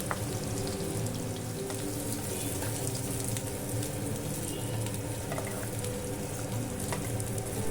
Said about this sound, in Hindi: तो इसे सबसे पहले हम फ्राई कर लेते हैं।